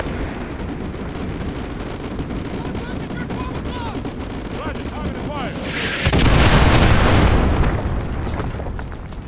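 Call of Duty Advanced Warfare battlefield with rapid gunfire and scattered shots, then a loud artillery strike booms in and rumbles on for several seconds, dense and close.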